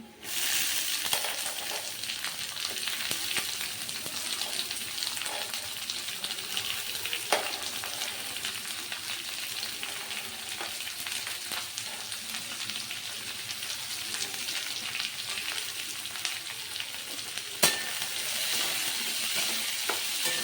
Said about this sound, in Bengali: এখন দিয়ে দেবো পেঁয়াজ ও ক্যাপসিকাম।